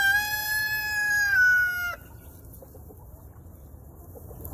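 A rooster crows loudly and close by in one long, drawn-out call that breaks off sharply partway through, leaving quiet outdoor ambience behind it.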